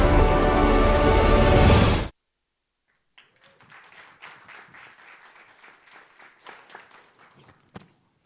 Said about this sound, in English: I don't know if the applause was for the video or for myself